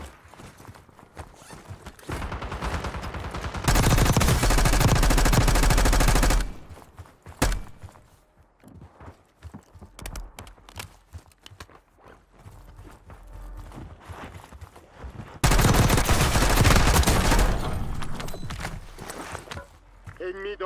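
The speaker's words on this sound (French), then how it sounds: "Des tirs." Two long bursts of rapid automatic gunfire in the video game Warzone, loud and dense, each lasting a few seconds with quieter footsteps and movement between them.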